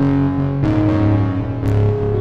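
An FM synthesizer in Native Instruments Reaktor 5 plays a step-sequenced pattern through reverb and delay, with sustained buzzy tones changing pitch in loud stepped chords that overlap as the echoes carry over.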